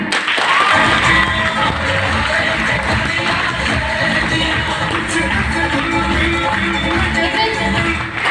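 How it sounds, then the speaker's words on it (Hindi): An audience at a motivational talk breaks into loud, sustained applause with scattered cheers, steady and close throughout. "सारे अपने लिए ताली बजाना"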